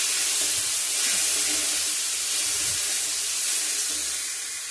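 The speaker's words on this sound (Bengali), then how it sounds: "এই দেখো প্রেশারে দিয়েছি একটা সিটি হলেই আমি নাড়িয়ে নেবো" A pressure cooker on a home kitchen stove releases a steady, fairly loud hiss of steam that runs unbroken through the whole stretch, with no voices over it.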